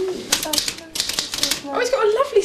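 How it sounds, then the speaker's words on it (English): Antique manual typewriter from around 1900, its keys struck in quick uneven bursts with short pauses, close and fairly loud, with a voice talking over the latter part. "This is my new typewriter."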